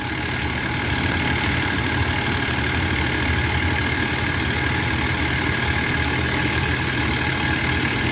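A construction rental truck's engine idles steadily, a continuous close, loud low rumble with exhaust noise that holds evenly throughout, with no talking.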